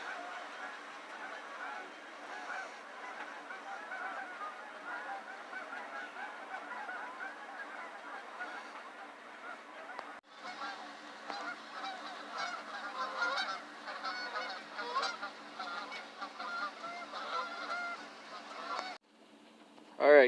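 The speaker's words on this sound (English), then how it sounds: "Few geese moving this evening." Geese honk continuously in flight on an outdoor evening, a busy overlapping chorus of calls that stays steady throughout and grows slightly louder toward the end.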